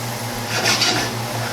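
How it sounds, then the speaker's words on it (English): Chili being stirred in a Lodge 3-quart Dutch oven, a spoon scraping and clinking against the pot for a brief moment, close and moderately loud over a steady low hum. "As you stir it around, make sure you scrape the bottom, get all that flavor up."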